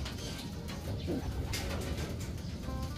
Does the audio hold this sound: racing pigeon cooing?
yes